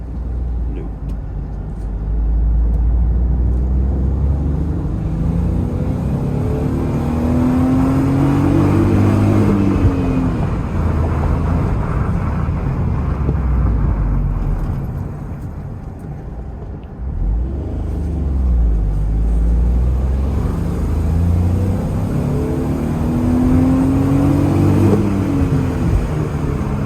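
Car engine in a driving video game revving up and dropping through gear shifts, rising tones sweeping up twice with a dip between, steady and loud under a voice talking.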